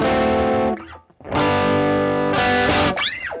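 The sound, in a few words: electric guitar with distortion effect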